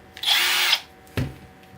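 A Milwaukee M12 Fuel brushless cordless drill whirs in a short high-pitched burst, stops, then gives a brief thud-like click, close by with no voices.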